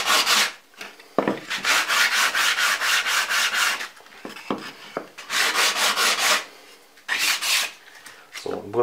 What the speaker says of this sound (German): Schleifpapier ist hier ein bisschen kaputt.